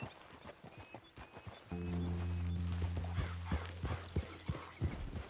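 Hooves clop in a steady trotting rhythm, close and clear, over a low hum and faint game ambience, from a horse in Red Dead Redemption II.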